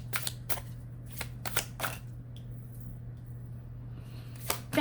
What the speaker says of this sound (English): We're going to first live shuffle with the Tattoo Tarot